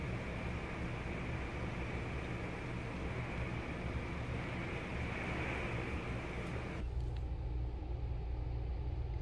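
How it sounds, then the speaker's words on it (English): Tropical storm wind and rain batter an RV on the Gulf Coast near Gulfport, a dense continuous roar that stays loud throughout, thinning in the upper range near the end, with no voices. "The wind was so bad, it was constantly rocking the RV."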